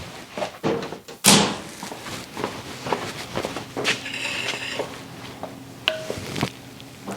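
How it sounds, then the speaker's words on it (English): A microwave door in a home kitchen, heard up close: a loud slam, then clicks, knocks and a brief electronic beep. "I'm going to stick this in the microwave and heat it up a little bit"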